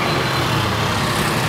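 Dense roadside traffic rumbles steadily, a continuous, loud blend of engines and road noise with no gaps or distinct passes.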